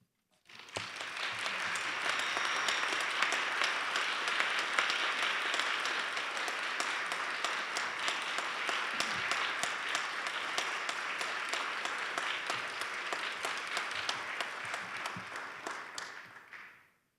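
Sustained audience applause fills a faculty award ceremony hall, steady and dense for about sixteen seconds before fading out, with no talking over it.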